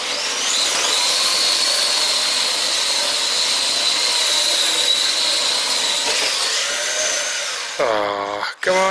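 Small electric motor of a Carten M210 4WD RC Mini Cooper pickup under throttle, a sustained high-pitched whine held for several seconds, then dropping off into brief revving bursts near the end.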